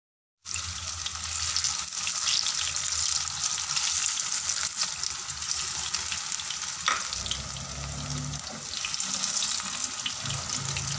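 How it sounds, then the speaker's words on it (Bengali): Water spinach fritters fry in oil over a low gas flame, giving a steady, close, even sizzle that lasts the whole time with no talking. "বড়াগুলো ভাজবার সময় গ্যাসের ফ্লেমটা কম করে দিতে হবে"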